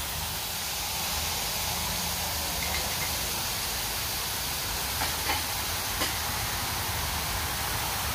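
Meat browning in a pan for egg roll in a bowl gives a steady, even hiss through the whole stretch, with a few faint clicks and taps near the end.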